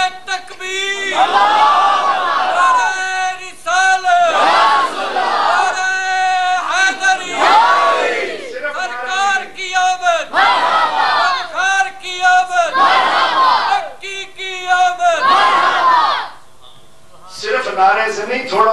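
A large crowd at a religious speech gathering loudly chants the takbir slogan in repeated call-and-response bursts of a few seconds each, about seven times, close and full-throated with brief pauses between.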